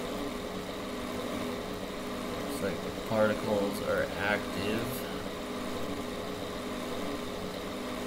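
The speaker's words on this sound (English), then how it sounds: "We still got engine sound." A steady engine drone from a glider simulator game hums low and constant beneath a person talking, with no wind noise around it.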